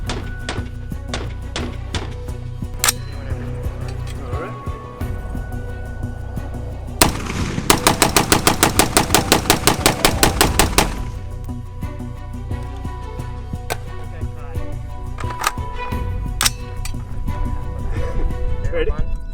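Palmetto State Armory Gen 3 PA10 .308 AR rifle fired without a flash hider, a run of rapid sharp cracks in quick succession plus scattered single shots, heard outdoors with people talking in between.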